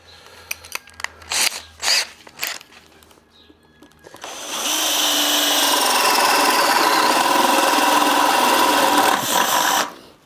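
Power drill with a 37mm bit widening undersized holes in a homemade bike stand: a few short knocks and scrapes, then a loud, steady grinding whine running about six seconds before cutting off.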